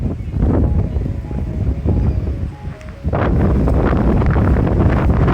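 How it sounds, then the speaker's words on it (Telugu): Strong, cold, gusty wind buffets the microphone outdoors on a cloudy day in the Yarra Valley near Melbourne, roaring loudly in waves, dropping briefly midway before surging back. "ప్లస్ బాగా గాలులైతే ఈదురు గాలులు వస్తున్నాయి మాకు"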